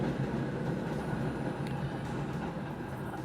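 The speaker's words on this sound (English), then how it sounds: "I'll wait till the train goes by." A passing train gives a continuous low rumble with a rolling, rattling texture of railcars, steady and moderately close throughout, with no voices.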